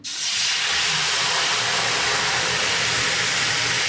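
A sudden loud hiss as water hits a hot surface, settling into a steady, roaring steam sizzle that continues throughout.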